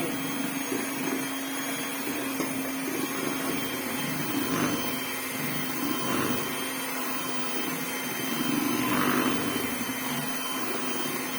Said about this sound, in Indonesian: Jadi saya caranya pakai mixer aja, tapi volumenya dikecilkan pelan-pelan